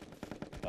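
Sniper rifle fire in the party video game Pummel Party: a quick run of sharp, punchy cracks over under a second, loud and close, ending in a sustained ringing tail.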